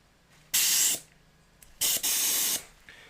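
An airbrush spraying unevenly, its fluid nozzle suspected of being flared, gives two close, loud hissing bursts: a short one, then a longer one broken by a brief gap, with no talking.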